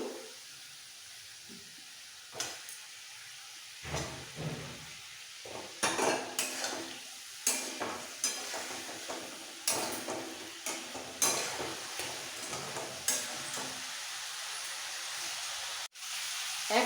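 Fried potatoes are sautéed in a masala of spices and oil for egg dum biryani, a steady low sizzle under repeated scraping and clinking of a spoon against the pan, with irregular stirring knocks throughout.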